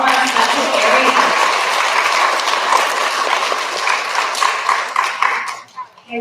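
Loud clapping from an audience of children and adults at an elementary school recognition ceremony, dense and sustained, then thinning and fading out over the final second.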